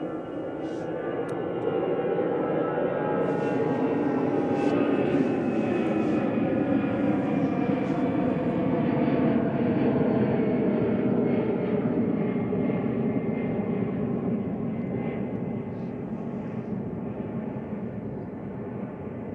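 EasyJet Airbus A319 airliner bound for Amsterdam at Manchester Airport, a broad, steady engine roar that swells and holds for most of the span, then eases off, with faint distant clicks on top.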